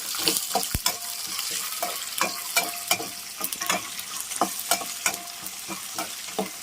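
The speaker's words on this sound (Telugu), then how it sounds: "మనం ముందే సిద్ధం చేసుకున్న శనక్కాయ పప్పులు జీడిపప్పులు వేసేస్తున్నాను ఇవి బాగా వేపుకోవాలి" Peanuts and cashews fry in hot tempering oil after the mustard seeds pop, a crackling sizzle dotted with frequent sharp clicks and taps of a spoon stirring the pan.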